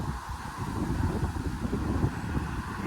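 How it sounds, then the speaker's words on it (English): Steady outdoor wind buffets the microphone with a continuous low rumble and gusting roar, loud and close throughout, with no break. "It's pretty windy today."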